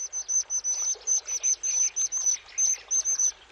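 White-throated dipper chicks call from the nest in a steady run of high, thin chirps, repeated rapidly and close by with no talking.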